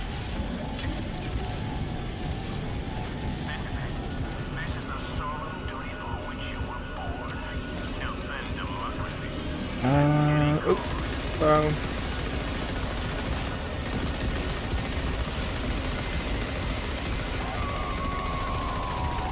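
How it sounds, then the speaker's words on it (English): A powerful, heavy-recoil gun fires in the Helldivers video game, a steady stream of shots running throughout under a player's voice. "My god, she is a powerful little gun."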